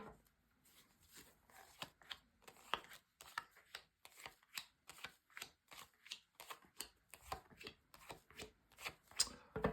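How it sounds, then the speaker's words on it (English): Tarot cards shuffled by hand before a weekly reading, giving a steady run of soft, papery riffles and taps in quick repeated bursts, close and quiet, with no talking. "first of all, a good shuffle"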